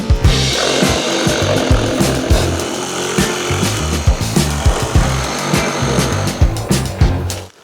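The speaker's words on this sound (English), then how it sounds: "Nothing like some reciprocating saw action first thing in the morning." A reciprocating saw cuts through wood at an off-grid cabin build, a loud, close, rapid buzzing rattle of blade strokes running continuously with slight pitch changes.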